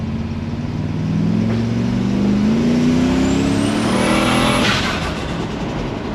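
An OSP Shop ute build accelerates hard: the engine note climbs steadily in pitch, loud and close, swelling through the middle of the run before easing off, with no talking.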